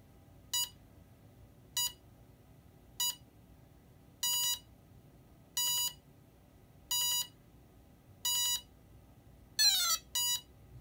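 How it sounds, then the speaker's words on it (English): Drone ESC calibration beeps on power-up, with throttle held high on a FlySky FS-i6X setup: eight evenly spaced bright electronic beeps about a second apart, then a quick rising chirp sequence and two short tones, clear over faint background. "And when the ESC comes up, it'll make some strange noises."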